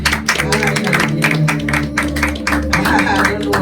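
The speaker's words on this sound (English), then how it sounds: "Let's clap for Jesus." A church congregation claps in steady rhythm for several seconds, loud and close, with voices and music running beneath the beats.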